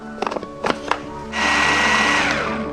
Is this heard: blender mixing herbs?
yes